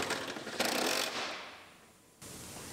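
Ratchet working on the cargo tray bolts of a 2013 Buick Enclave, a close, continuous mechanical clicking and rasping that swells, fades out, then resumes abruptly near the end, with no talking.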